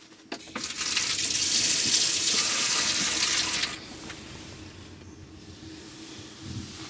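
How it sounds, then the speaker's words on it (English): Water runs from a tap into the sink of a 1986 Talbot-based motorhome, a loud hissing splash that starts abruptly, holds for about three seconds, then cuts off, leaving quiet room tone. "very modern tap and sink"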